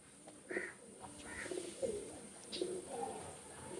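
A pair of Teddy pigeons coo in soft, repeated bursts at close range, several low throaty calls spaced across a few seconds against a quiet background.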